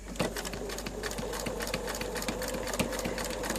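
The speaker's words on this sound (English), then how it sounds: "I'm just going to do a couple of stitches and then go back a couple of stitches, and then I'm going to sew down to the corner." A sewing machine stitches binding onto a water-resistant mobile phone cover, its needle thumping in a fast, even rhythm over a constant motor hum, close and steady throughout.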